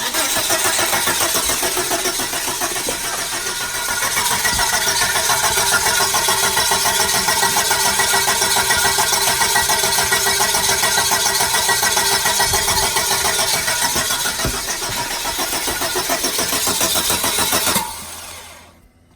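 A car engine controlled by a homemade Megasquirt 3 Pro PNP unit runs steadily and loudly at close range on a test car, a continuous idle that drops away at the end.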